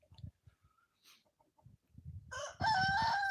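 Hens and a rooster in a backyard coop make soft scattered clucks and low noises that build into a loud, close crowing call at the end.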